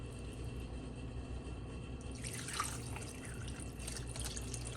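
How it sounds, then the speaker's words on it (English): Water pours from a container into a pot with a chuck roast, a steady liquid trickle that grows into a brighter splashing fill partway through, close by with no talk. "I'm gonna add 4 cups of water."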